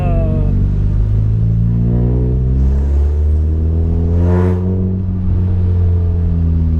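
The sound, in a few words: Peugeot 106 S16 engine revving with accelerator pressed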